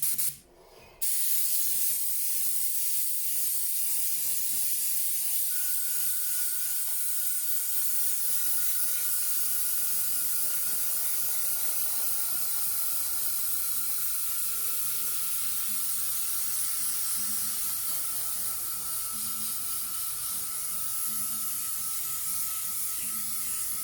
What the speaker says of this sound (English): I'm just going to put you on pause again for a second while my compressor catches up.